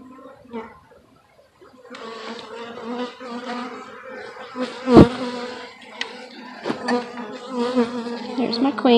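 Honeybees buzzing around an open hive during an inspection, a close, wavering drone that swells and dips, with louder passes as bees fly near.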